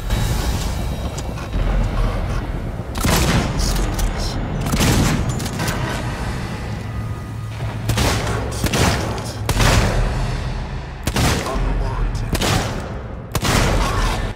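Shotgun firing in Alien Isolation, about five or six loud, booming blasts spaced a second or more apart, with game ambience and a voice talking in between.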